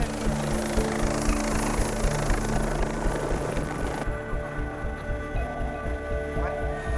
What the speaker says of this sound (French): l'hélicoptère est obligé de voler sous les nuages, juste au-dessus des lignes à haute tension